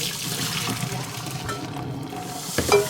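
Porcupine quills rinse in warm soapy water, a steady wet sloshing and swirling that runs the whole time, close and fairly loud, with a brief louder splash near the end.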